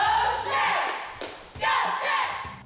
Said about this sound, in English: some cheerleaders at a local high school were equally enthusiastic to call out a cheer for Shrek